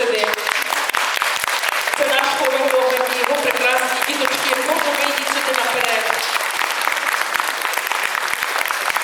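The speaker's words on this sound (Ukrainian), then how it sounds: "Наступні оплески хочу нашим прекрасним педагогам." Sustained audience applause for the teachers at a children's concert in Lviv, a dense, loud roar of clapping throughout, with a voice speaking over it in the middle stretch.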